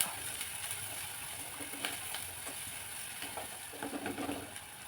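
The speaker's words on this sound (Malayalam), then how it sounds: "കടുക് പൊട്ടിച്ചിട്ട് നല്ല ഉള്ളി വഴറ്റുക" Onions sautéing in hot oil after mustard seeds have popped, for a simple Kerala-style side dish; a steady, fairly quiet sizzle runs throughout with light stirring scrapes and small crackles, and no one speaks.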